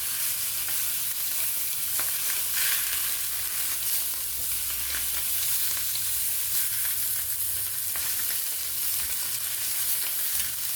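Dr Pepper sausages frying in a stovetop pan give a steady, close sizzle and crackle that runs without pause, with no voices over it.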